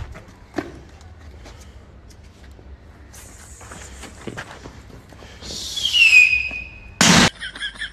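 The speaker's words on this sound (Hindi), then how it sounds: "और सभी जो स्टाफ है वो भी उनके साथ में आतिशबाजी लगा रहा है।" Diwali fireworks set off by a group of people: a few scattered pops and crackles, then rising whistling shrieks from launched rockets and a loud sharp burst followed by fizzing crackle near the end.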